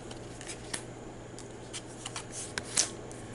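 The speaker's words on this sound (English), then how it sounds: "Then I'm going to draw my cards." Cards are drawn during a Marvel Champions card game, a run of soft, scattered papery flicks and slides with one sharper snap near the end, close by in a quiet room.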